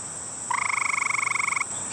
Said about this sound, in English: many of those gray tree frogs from before have grown up and threw their voice in